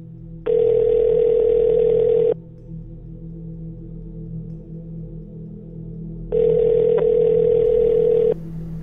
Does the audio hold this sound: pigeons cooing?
no